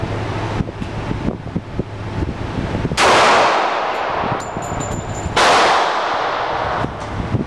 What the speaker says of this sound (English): Take your finger off the trigger if you're not ready to shoot it